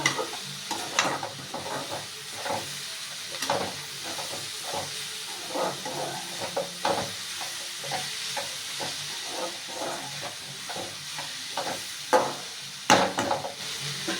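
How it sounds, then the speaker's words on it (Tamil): Ingredients for vegetable fried rice are sautéed in a hot pan, with a constant hissing sizzle broken by frequent rhythmic scrapes and clatters of stirring, close and prominent throughout. "நல்லா வதங்கணும்."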